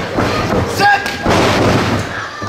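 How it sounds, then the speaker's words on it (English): A wrestler lands a basement drop kick during an independent wrestling match, heard as dull thuds against the mat amid loud crowd noise and a commentator talking. "Basement drop kick."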